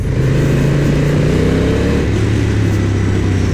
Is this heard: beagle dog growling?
no